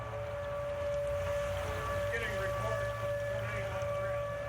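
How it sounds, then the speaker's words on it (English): Tornado sirens sounding in Wichita during a severe storm, a steady sustained wail heard faintly from a distance, partly masked by a broadcaster speaking over it. "You may be able to hear the tornado sirens coming from our west."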